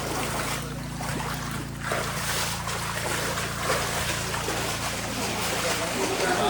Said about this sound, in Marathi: भाऊ नाव असं पाणी इथं हलवतो